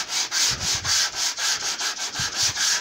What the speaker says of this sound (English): I'm going to sand these edges smooth back with a